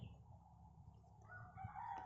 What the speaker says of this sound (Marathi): मधूनच कुठून तरी कोंबड्याचा बांग आपल्याला ऐकायला मिळतो